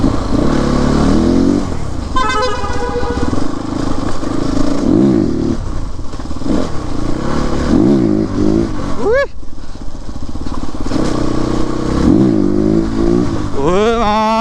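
A CrossX 300 motorcycle rides and revs, its engine rising and falling in repeated pitch sweeps, with a sharp rev near the end; someone talks over the engine throughout.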